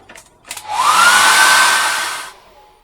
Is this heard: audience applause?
no